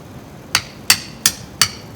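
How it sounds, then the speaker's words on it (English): Four sharp hammer blows ring out at an even pace, close and loud, while catch basin parts are fitted for a landscape drainage system, each strike clear against a quiet background. "First time using a hammer."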